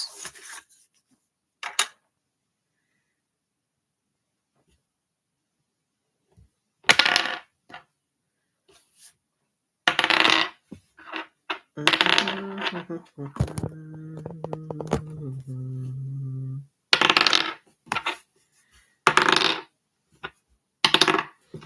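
A twenty-sided die clatters and rolls on a hard surface in several loud bursts, mixed with a person talking and a brief low electronic tone partway through.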